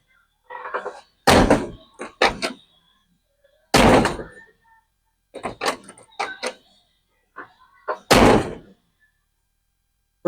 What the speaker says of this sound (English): Let's try closing the door and see if it opens nice and easy like it should.